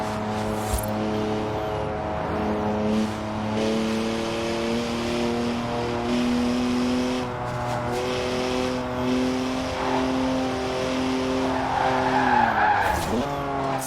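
A three-litre twin-turbo straight-six car slides sideways with a steady, loud engine drone and long sustained tyre squeal, pitch shifting as it drifts, swelling near the end.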